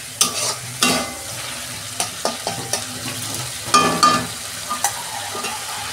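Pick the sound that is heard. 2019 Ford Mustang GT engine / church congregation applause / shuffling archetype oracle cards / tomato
tomato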